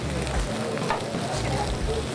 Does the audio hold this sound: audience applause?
no